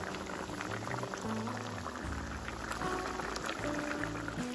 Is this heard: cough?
no